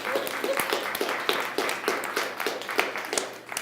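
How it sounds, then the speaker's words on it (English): An audience at a body language talk claps for volunteers on stage, a steady patter of crowd applause. "Everybody, big round of applause for my superheroes."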